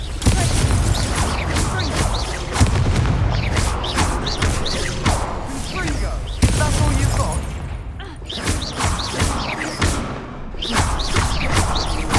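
Spells are cast in a Hogwarts Legacy battle, with the Confringo explosive spell among them: repeated loud thumps, booms and crashes punch through a dense, continuous wash of game effects and music, with no pause in the busy mix.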